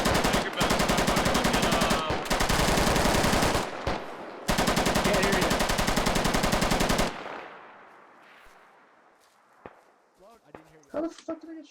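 Automatic gunfire in the Squad military shooter game, Russian forces firing sustained rapid bursts with short gaps, loud and close, then trailing into quieter distant shots.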